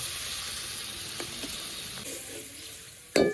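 Spice masala sizzling steadily in a pan for a Bengali fish curry, with a small splash of water added near the end bringing a brief louder hiss and bubbling burst.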